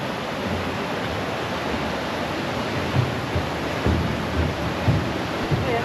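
A river rushes beneath an iron footbridge at a rock garden park in Dharan, Nepal, giving a steady broadband roar of flowing water with a few slightly louder surges.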